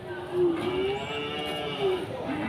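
Simmental cattle at a livestock market give a low, drawn-out moo that swells twice over a steady crowd murmur, moderately close.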